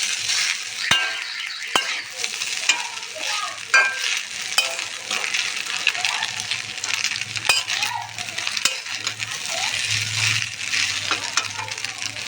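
Pasta is stirred in a cooking pan as the water cooks down, with a soft ongoing sizzle. Sharp metallic clicks and scrapes from the utensil against the pan come at uneven intervals, close up, with no talking.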